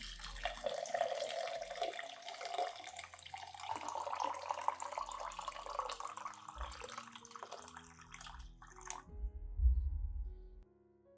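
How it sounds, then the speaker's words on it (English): Hot water pours steadily into a clean glass jar of chopped garlic, the pitch rising as it fills, then stops with a short clunk. "Add 500 milliliters of hot water."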